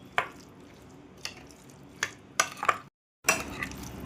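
A spoon stirring lemon juice into boiled egg chutney, sharp clinks against the bowl every second or so, quickening near the end, with a short silent gap, quiet and close.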